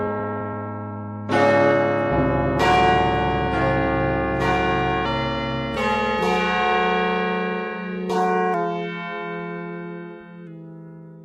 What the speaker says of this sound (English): With the chiming of the bell,